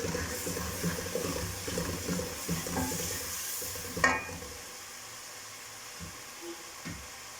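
Chopped and whole green chilies with fresh coriander sizzle in a pan of frying kadhi pakora base, scraped and stirred steadily, then the frying quiets to a soft hiss with a few clinks near the end.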